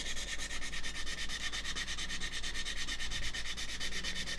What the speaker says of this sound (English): it is sanding down perfectly well, even with the finer side